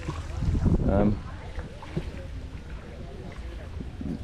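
Paddles splash and slosh in water beside a small rowboat in Hoi An, Vietnam, close and uneven, while people talk briefly over the lapping.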